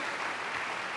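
Applause from a congregation during a church worship service, a steady broadband patter of clapping filling the whole second with no pauses.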